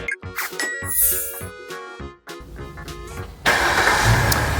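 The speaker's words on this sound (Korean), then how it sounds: "이 차량은 원격 시동도 되고요" Electronic chimes and beeps sound, then a Kia Carnival Hi-Limousine minivan engine, remote started, cranks and catches into a steady, loud idle, close by.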